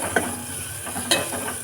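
Onion pieces with tamarind and turmeric fry in a pan, a soft steady sizzle broken by two brief clinks of a spoon against the pan.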